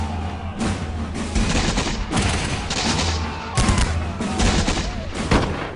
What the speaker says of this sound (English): The Americans are able to fire just a few volleys before they are overrun.